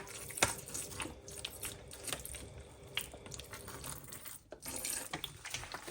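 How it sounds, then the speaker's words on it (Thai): Fish sauce poured into a Thai dish being mixed by hand gives a faint trickling, splashy liquid flow with small clinks, close and quiet, without speech. "น้ำปลาจ้าใส่ปลา"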